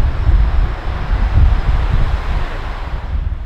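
Strong wind roars and buffets without pause around a Hilleberg tent pitched on a New Mexico mountain during an elk hunt. The rumble is loud and low, surging in gusts, with no voices.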